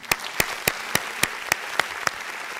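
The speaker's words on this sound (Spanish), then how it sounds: "A ustedes vamos a dedicar el aplauso de la patria agradecida." Applause at a public tribute, heard as about nine sharp, evenly spaced claps over under three seconds, alone with no voices.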